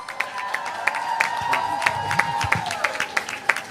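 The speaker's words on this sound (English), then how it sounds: "Stand up, please, and give her a round of applause." An audience at a women's creative event gives a round of applause, steady clapping from a crowd with a few cheers, while a sustained tone and voices carry over it.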